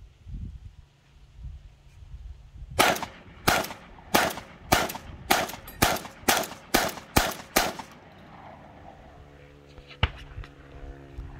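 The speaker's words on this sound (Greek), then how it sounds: "Είμαστε έτοιμοι να κάνουμε μερικές βολές, να δούμε τη συμπεριφορά και την ανάκρουση που έχει το όπλο στα 28 γραμμάρια." A Breda B12i shotgun firing 28-gram shells in a rapid series of about ten sharp, loud reports at an even pace, with quieter ambient noise before and after.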